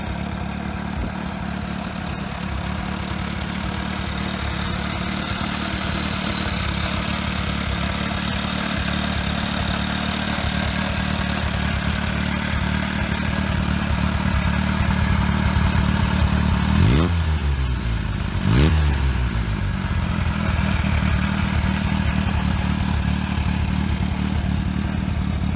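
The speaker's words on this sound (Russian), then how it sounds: "Сами датчане прозвали Nimbus Type-C шмелем из-за специфического жужжания, издаваемого мотоциклом при езде." A Nimbus Type-C motorcycle, the Danish machine nicknamed the bumblebee for its buzzing, runs steadily with a low droning engine note, with two quick nearby passes or revs late on and no talking.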